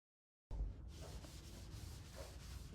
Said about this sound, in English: No, this eraser doesn't work